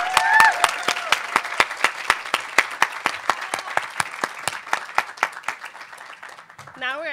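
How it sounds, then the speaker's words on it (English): Applause from an event audience honoring a university chancellor, with distinct individual claps ringing out over a steady wash of clapping that fades slightly toward the end, where a brief voice cuts in. "Can we give her another round of applause?"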